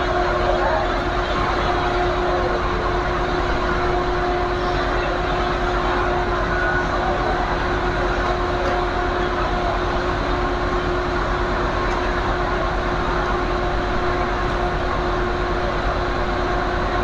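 An Indonesian passenger train on a Surabaya city route runs steadily on the rails, heard from inside as a continuous loud rumble with a constant tonal hum and faint rhythmic wheel noise, with no clear talk.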